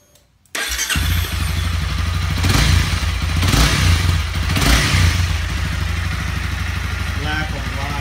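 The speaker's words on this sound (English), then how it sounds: "Stock exhaust sound versus M4 exhaust" A Honda CB300F motorcycle with its stock exhaust starts up after a brief silence and then runs at a rough idle, with a few throttle blips swelling the loud, close engine note.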